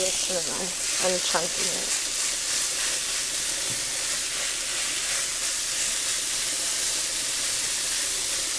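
Ground beef frying for shepherd's pie, a steady broadband sizzle and hiss from the hot pan throughout. Brief speech is heard near the start.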